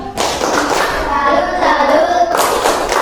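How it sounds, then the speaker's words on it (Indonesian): A group of people, a school class, clapping together in a classroom, a dense burst of applause that runs steadily for about three seconds, close and loud, with no speech over it. "Berikan tepuk salut."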